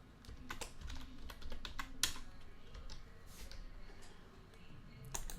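Quiet, close typing on a computer keyboard, irregular clusters of light key clicks with short gaps, a steady patter with no voices.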